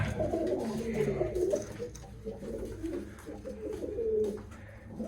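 Pigeons coo repeatedly close by, low throaty calls rising and falling in an unbroken murmur.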